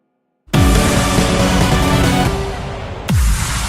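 Music from a sound font comes in after a short silence with a loud, dense, bright tone, softens slightly, then returns with a fresh hit near the end.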